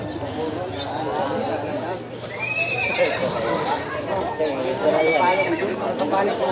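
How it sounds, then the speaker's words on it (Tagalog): A horse whinnies twice with high, wavering calls, set against steady background chatter and people talking nearby. "Aba, malaki yung kabayo na yan."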